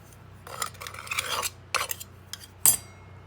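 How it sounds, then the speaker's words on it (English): A metal tool scrapes excess casting sand off a ring mold in short rasping strokes, several separate close scrapes with small pauses between them. "You can kind of scrape that off."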